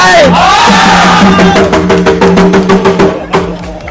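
A cheering squad at a market event at Sirichai Market, Bang Bon, shouting together, with a loud crowd roar and a burst of rhythmic claps or stamps, all under an amplified announcer's voice.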